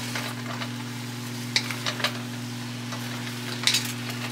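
Vegetables sweat down in a pan as they are prepped for the week: a soft, even sizzle under a constant low electrical hum, with a few sharper scrapes and clinks of stirring.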